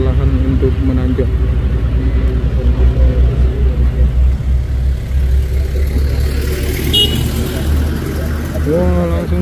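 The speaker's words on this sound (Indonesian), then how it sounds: "Dimana truk-truk bermuatan berat yang terkadang kewalahan untuk menanjak." Heavily loaded trucks labor up Bukit Kodok hill, a deep, steady engine rumble droning close by with strain in the low end, while someone talks over it.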